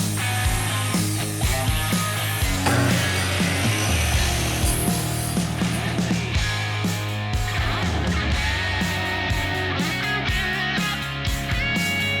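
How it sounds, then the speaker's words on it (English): A power saw cuts a painted wooden door trim piece to length and then rips it narrower, a loud, steady, grinding whine that runs unbroken and close for the whole stretch. "go out to the saw, cut it to length, and then I'm also gonna rip it more narrow than this"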